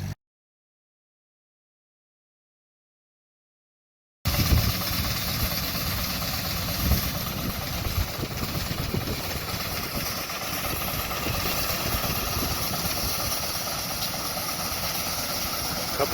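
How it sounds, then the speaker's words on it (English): A steam engine drives a threshing machine at a farm threshing bee, starting after a few seconds of silence and then running as a steady, loud mechanical drone and rumble with slight rhythmic variation. "Steam engine runs the threshing machine, but everything else is horse and mule."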